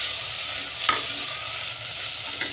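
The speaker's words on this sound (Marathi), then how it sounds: "आता आपण ह्याच्यात टोमॅटो घालून घेऊया, जो आपण आधी चिरलेला आहे। 2 मिनिटं हलवून घेऊया" Chopped tomatoes stirred into fried masala in a pan for misal, a close continuous sizzle with two brief scraping taps of the spoon.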